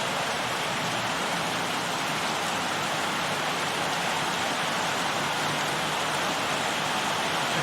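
Heavy rain pours down in a dense, unbroken roar that stays loud and constant throughout, with no voices.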